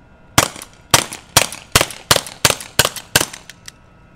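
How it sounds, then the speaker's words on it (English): A Walther PDP Compact 4-inch optics-ready paintball pistol fires eight sharp, evenly spaced shots roughly every half second, loud and close, followed by a fainter final pop, with no talking. "Okay, so we're gonna drop it in, rack it back, and then I'm ready to shoot right here."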